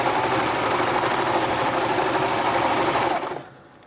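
A serger sewing machine stitches along a cloth pad with a fast, close, steady mechanical whirring chatter that cuts off abruptly near the end, with no voices.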